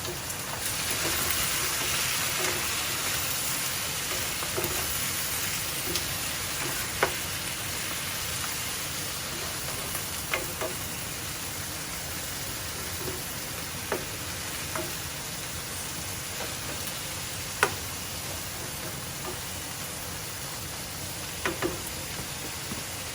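Beef and broccoli frying in a pan while being stirred with a ladle. A steady, rain-like sizzle runs throughout, with occasional soft clinks and scrapes from the stirring.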